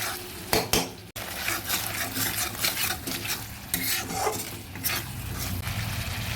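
Grated taro stirred with a fish head in a frying pan, steady scraping of a spatula against the pan over a low sizzle, with a few sharper clinks near the start.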